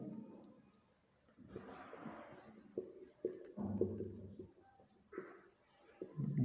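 Chalk or marker scratching across a board in a mathematics class, short strokes coming in bursts while a teacher talks over them.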